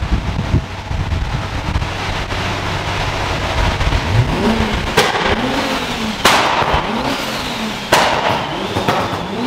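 An Audi TT RS engine revving during testing, a car engine droning and rising through repeated revs with sharp pops and bangs, wind buffeting the microphone.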